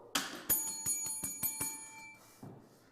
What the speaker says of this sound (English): why do I have my bell in my hand?